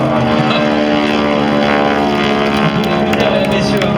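A propeller aerobatic airplane flies at an aerobatics world championship air show in Châteauroux, its engine droning loud and steady throughout, with faint voices beneath.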